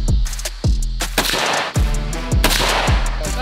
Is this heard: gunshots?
yes